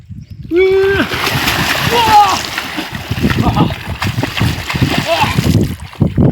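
A loud splash as someone jumps into water on a fishing outing, followed by churning and sloshing while voices talk nearby.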